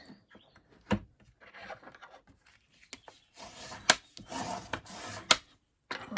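Bone folder rubbing and burnishing cardstock on a craft table, soft scraping strokes with a few sharp taps, close and fairly quiet, no talking.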